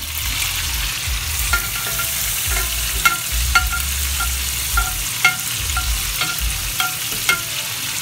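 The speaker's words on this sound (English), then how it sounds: "looks like our butter is almost melted, totally melted" Butter melts in a hot pan with a steady, loud sizzle and frying hiss, with scattered sharp pops and crackles over about eight seconds and no talk.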